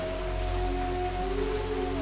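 Steady rain falls in a dense, even patter with no voices, a faint low tone running underneath throughout.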